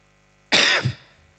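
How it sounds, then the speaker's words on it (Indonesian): A single short cough, close and fairly loud, with nothing else around it. "Itu batuk."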